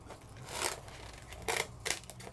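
Scissors cut a piece of craft foam up close, making a few short, soft snips and rasps, about three separate cuts in quick succession, quiet and without speech.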